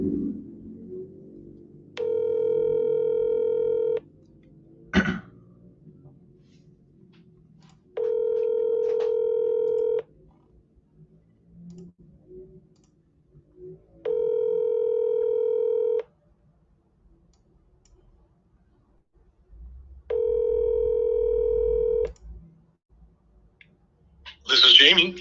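A phone call being placed: a short burst of keypad dialing tones, then four evenly spaced ringback tones of about two seconds each, clear and alone with faint background between rings.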